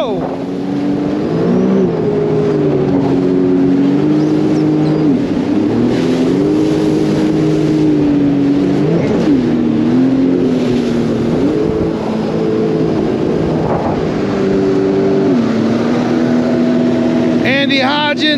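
Jet skis riding through deep backwater, a loud continuous engine drone that rises and falls in pitch with throttle changes, close and steady for the whole stretch, with wind noise and a voice shouting.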